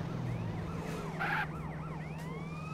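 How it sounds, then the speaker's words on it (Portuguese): An ambulance siren in GTA San Andreas wails, sweeping up and down steadily over a constant low engine hum, with a brief louder burst partway through. "Mas a sirene tá ligada"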